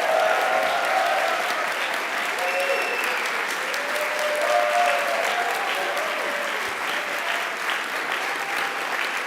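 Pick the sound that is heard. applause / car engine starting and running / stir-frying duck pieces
applause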